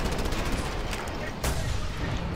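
Gunfire in Just Cause 2, a fast, continuous burst of loud shots with crackling impacts, close and dense for a couple of seconds.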